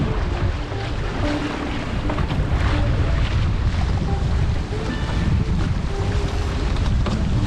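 A gust of wind builds while sailing a Hobie Cat 16 catamaran on a lake, heard as loud, steady buffeting on the microphone, with rushing water and hull noise beneath.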